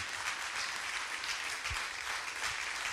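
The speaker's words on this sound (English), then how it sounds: "Can we get a round of applause?" An audience gives a round of applause at a discussion with a New Orleans mayoral candidate, steady dense clapping at a moderate distance throughout, unbroken by speech.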